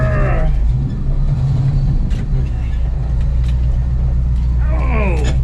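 An old Ford grain truck's engine rumbles low and steady at close range while being parallel parked, with a cow-like groan in the truck sounds and a clatter partway through.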